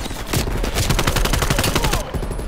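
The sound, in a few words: gunfire in video game Call of Duty Cold War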